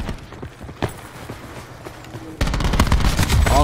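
Gunfire in the multiplayer shooter Black Ops 4, with scattered shots at first, then a sudden loud burst of rapid automatic fire that rattles on continuously, close and dominant.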